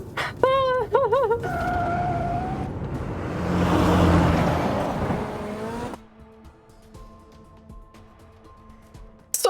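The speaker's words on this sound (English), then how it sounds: "The car emerges from the tunnel and races through the streets of the killing zone." Race car speeding through city streets after leaving a tunnel in the video game Love and Deepspace: a rising engine roar with tire noise swells mid-clip, joined by brief voiced effects and game music tones, then drops to a quieter background.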